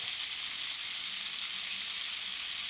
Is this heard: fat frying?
yes